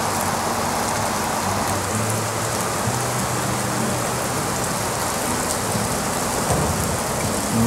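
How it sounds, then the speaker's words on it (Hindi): Torrential heavy rain pours down in a dense, loud, unbroken roar that fills the whole stretch, with a low rumble beneath and no voices. "तो अब बारिश मूसलाधार शुरू हो गई है जी"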